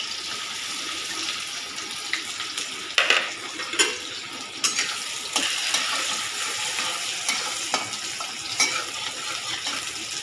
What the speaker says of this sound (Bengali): তেলটা গরম হয়ে গেছে, আগে পেঁয়াজটা ভেজে দিই